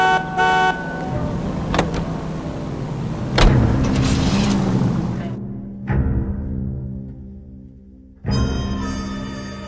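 Car engine and road noise from driving in the video game L.A. Noire, a steady motor drone with a few sharp interior clunks, then a brief near-silence before the engine sound returns loudly.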